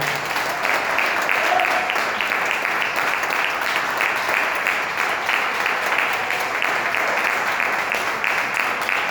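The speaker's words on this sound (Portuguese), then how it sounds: "Pode aplaudir o Senhor." Sustained congregational applause during a church sermon, an even wash of many hands clapping steadily throughout with no pauses.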